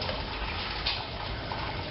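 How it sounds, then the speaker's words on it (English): Clean sparge water trickles from a sparge arm onto the grain bed during all-grain brewing of a German Pilsener, making a continuous close, even splashing wash with no pauses and no talking. "So this allows that nice clean sparge water to trickle onto the top so it doesn't upset the grain bed"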